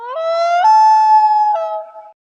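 A loon lets out a long, rising wail that swells and then holds a pure, mournful tone for about two seconds before fading out, heard clearly and alone.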